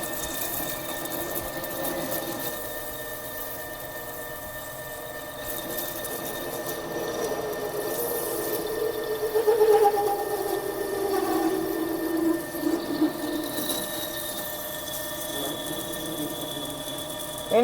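A Haas TL-1 CNC lathe hums steadily while parting off a part at 500 RPM, a continuous mechanical drone with faint rattles and brief scraping squeaks, under occasional talk.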